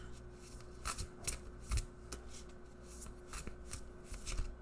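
A deck of Sacred Forest oracle cards being shuffled by hand: close, repeated riffling and soft card slaps in quick irregular bursts, with light rubbing between them and no talking.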